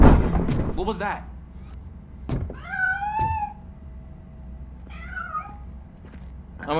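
A cat in the RoboCop: Rogue City video game meows several times, clear rising-and-falling cries over a low background hum, with a few dull thumps between them.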